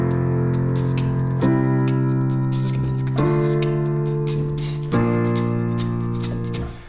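A piano plays a four-chord loop, starting on F. Three sustained chords change at regular intervals, each struck firmly and left to ring, with no voices over them.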